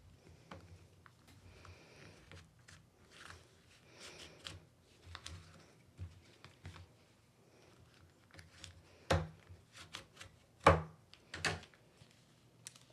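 Scissors press along a folded paper crease while making an origami gift box, giving faint scraping and rubbing strokes with a few sharper clicks and taps, quiet and intermittent.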